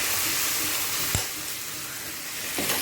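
Spices fry in a pan with a steady, moderate sizzling hiss, broken by a couple of brief utensil clatters.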